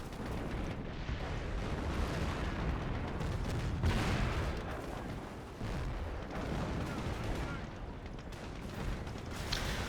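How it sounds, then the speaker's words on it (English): Sector artillery strike in the Company of Heroes game, a dense, continuous barrage of heavy booms and rumbling explosions that stays loud and close for the full span, with no pauses between the blasts. "He does have enough for sector artillery here in this zone, and he does call it"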